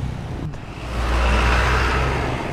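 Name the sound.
continuous road traffic flow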